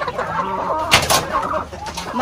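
Heritage chickens cluck loudly and close by in a backyard poultry yard beside a house in General Santos, with several overlapping calls and one sharp squawk near the middle.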